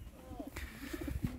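Racing pigeons coo at their loft as birds return from a 350 km old-bird race, several soft rolling coos repeating close by with a person talking over them.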